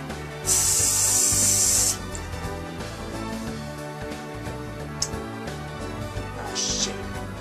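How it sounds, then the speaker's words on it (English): Spray paint hisses from a can onto a Dreamcast console in one loud sustained burst, then two shorter faint puffs follow amid quiet handling noises. "Give it a little good spray."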